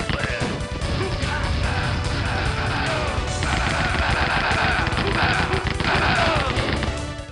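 Rapid machine gun fire in the retro shooter Rise of the Triad, fired by an enforcer enemy, with loud sustained bursts mixed with crashing game effects, continuous and dense throughout.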